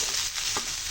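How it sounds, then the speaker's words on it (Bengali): Broken rice grains frying in a pan, a brief close hiss of sizzling with a soft stirring scrape, alone without speech. "চালগুলো দিয়ে দেবো, দিয়ে রাখা। বিসমিল্লাহির রহমানির রহিম। এবার আমি ভেজে নেব।"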